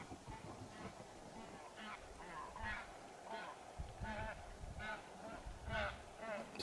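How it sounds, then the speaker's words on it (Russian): Wild geese honk repeatedly as they fly over a northern taiga river, the calls coming in scattered bursts at a moderate distance over faint outdoor background. "Опять гуси пролетели."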